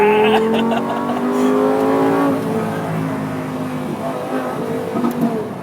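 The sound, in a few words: Lamborghini Gallardo Superleggera accelerating, engine roar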